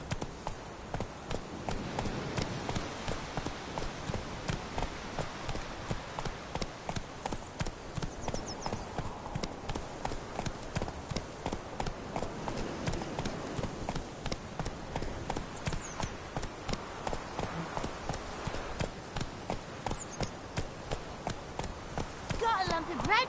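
Roach the horse gallops in The Witcher 3, steady rhythmic hoofbeats pounding continuously at close range with a constant game soundscape beneath, and a voice speaking over it at times.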